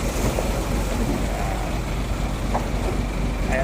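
A large boat engine on a Bangkok river runs as a steady low rumble, loud and close, with faint background noise.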